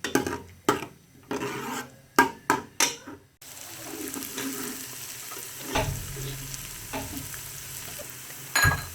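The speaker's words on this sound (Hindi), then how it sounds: "प्याज को थोड़ा सॉफ्ट करना है" Onions fry in a pan over high flame, a spoon scraping and clattering through them in quick strokes, then a steady close sizzle.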